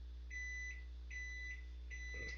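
An appliance beeps three times at an even pace, each tone short and moderately faint over a strong steady low hum, with a brief rustle at the end.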